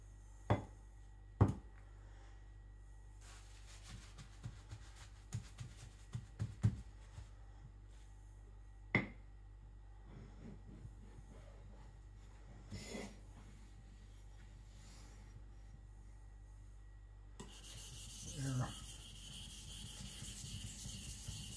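Custom knife blade being thinned and sharpened through its midsection: faint, intermittent scraping and rubbing strokes separated by quiet gaps, with a brief hissy rasp near the end.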